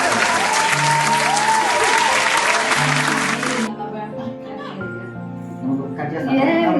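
An audience claps loudly and steadily at a New Year celebration, a dense wash of applause that stops abruptly, leaving music and chatter behind.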